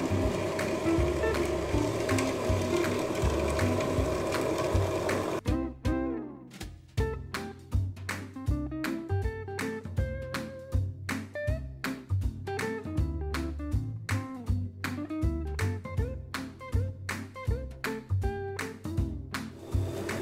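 A homemade chocolate-making machine runs steadily while sugar and then skimmed milk powder are tipped in. A dense mechanical whir gives way to a busy, rhythmic clatter and ticking that continues throughout, with no talking.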